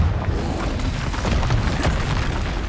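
Confringo fire blast spell exploding in Hogwarts Legacy, a dense, heavy rumbling boom with crackling debris that fills the whole stretch, loud and close, with no voices.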